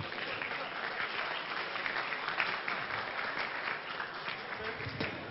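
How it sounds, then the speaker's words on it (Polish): Applause from an audience at a live show, dense and even for over five seconds, moderately distant, with crowd voices mixed faintly into the clapping. "Wielkie brawa."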